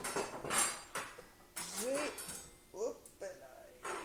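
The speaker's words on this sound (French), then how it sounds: "j'ai aussi utilisé une grosse cuillère puis une petite" A big spoon and then a small spoon struck as rhythm instruments, giving a handful of sharp metallic clinks and taps in short bursts, close and fairly loud, with brief voice-like sounds between them.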